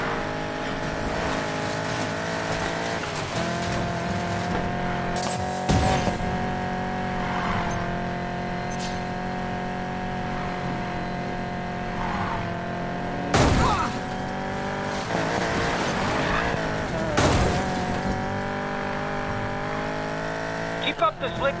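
A car drifts in a video game, engine droning steadily with repeated tire squeals and screeches over a long run, sharp bursts of impact or skid noise breaking in now and then, and a voice talking at points.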